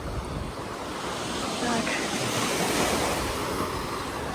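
Surf washing onto a crowded beach in Odessa on a weekday morning, a steady broadband wash that swells slightly midway, with wind on the microphone and a brief spoken word.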